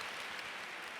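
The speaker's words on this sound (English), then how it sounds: "Thank you so much for your kind applause" An audience at an alumni success talk keeps up a brief, even wash of clapping, steady and fairly soft throughout.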